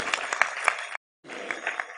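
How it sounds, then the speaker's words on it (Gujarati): An audience at a Gujarati religious discourse gathering breaks into applause, a dense burst of clapping that cuts off abruptly, then resumes after a short silence. "તાળીથી વધાવીએ તમને બધાને"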